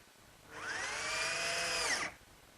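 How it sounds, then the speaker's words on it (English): A power drill runs steadily for about one and a half seconds, driving a 1-inch drywall screw into an oak cabinet, its whine climbing in pitch as it spins, then cutting off. "I'll fasten it in place using some 1-inch drywall screws"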